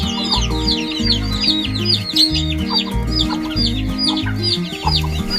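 Chickens cluck repeatedly in a lively flock, with overlapping calls and chirps close by, alone without talk.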